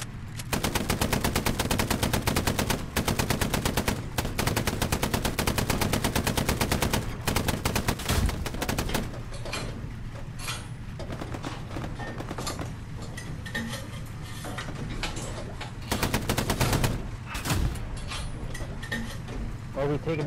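Gunfire in the World War II shooter game Hell Let Loose: long bursts of rapid automatic fire, loud and close, broken by short gaps, with quieter shots and a steady rumbling engine underneath.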